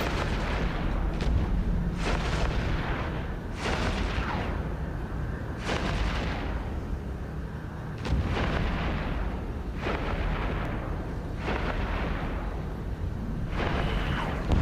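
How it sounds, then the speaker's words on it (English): Heavy cannon fire from a ship in the space game EVE Echoes, a series of loud booming blasts repeating every second or two over a constant low rumble. "It does feel like a cannon a lot more now."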